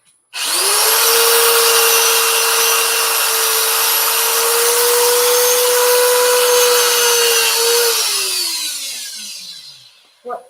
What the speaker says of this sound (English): This is an angle drill from Klingspor, okay?